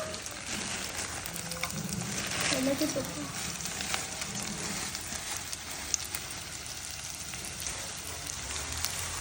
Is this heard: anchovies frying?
yes